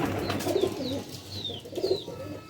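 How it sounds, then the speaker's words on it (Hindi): Pigeons kept in a pigeon loft coo close by in soft, repeated throaty phrases, several overlapping calls in a steady rhythm over a low background hum, with no voices. "इसीलिए तो कबूतर इतने ज़्यादा हो जाते हैं।"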